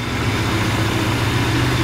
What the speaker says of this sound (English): the motor is running nice and smooth. It's idling a little bit low